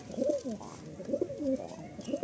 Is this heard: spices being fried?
no